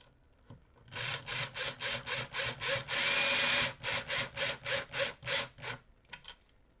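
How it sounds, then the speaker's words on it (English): Rhythmic back-and-forth grinding of a tiny hand drill boring a pilot hole into wood, steady repeated strokes with a brief pause near the end. "I can just put it in my little pilot hole, and I use my tiny little hand drill"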